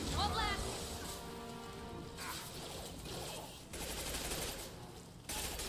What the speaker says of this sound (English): I hate the submachine gun pistol so much